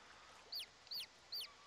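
Chickens clucking in the farming video game Summer in Mara, three evenly spaced bright clucks over a faint, quiet ambient background, with no speech.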